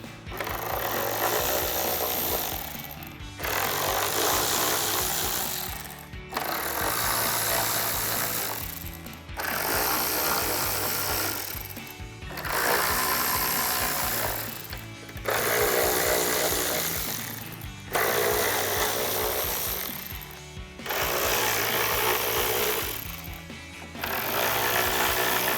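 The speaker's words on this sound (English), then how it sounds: "So now we'll take our 8mm socket to remove all of our bolts." A power tool with an 8mm socket removes the grille bolts on a 2019-2023 RAM 1500. It whirs loudly in roughly eight bursts of about three seconds each, separated by brief pauses between bolts.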